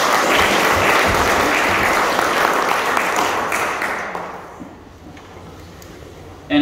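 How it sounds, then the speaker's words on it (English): An audience at a lecture claps in sustained, dense applause that stays loud and even for about four seconds, then thins and fades into quiet room tone before a short bump at the end. "give Kyle and Jeremiah a round of applause"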